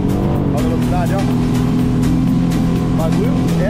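Jet ski accelerating at sea near an island, a loud continuous engine roar with rising pitch sweeps and water rush, close by, with a person talking over it.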